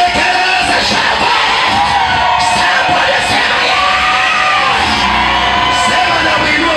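A church congregation cheers and shouts for joy with hands raised, a continuous loud roar of whoops, yells and voices filling the space throughout.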